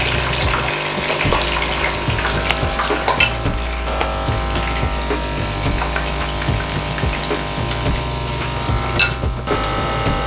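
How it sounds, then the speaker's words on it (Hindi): Besan bhalle, gram flour dumplings, sizzling in hot oil in a kadhai, a steady bubbling fry throughout with occasional clinks of a spoon against the pan, close and fairly loud, no talking. "अब हम बेसन के भल्ले इस कढ़ाई में डालते जाएंगे।"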